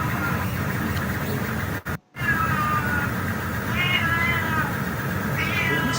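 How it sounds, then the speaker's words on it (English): Angry house cat yowling and meowing in drawn-out, wavering cries over a steady hiss of background noise, with a short dropout midway. "He's got an angry kitty."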